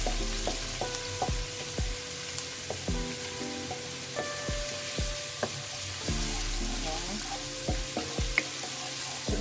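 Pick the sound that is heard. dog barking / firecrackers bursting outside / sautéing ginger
sautéing ginger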